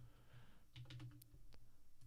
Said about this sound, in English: I'm currently typing the predictions